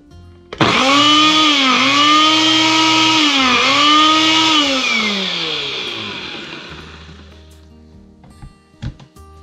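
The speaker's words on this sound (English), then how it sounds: "So now we're gonna grind them down into a powder." A grinder turning crispy dried cayenne peppers into powder, a loud close whining motor that starts abruptly, dips in pitch twice under load, then slowly winds down into quiet rattles.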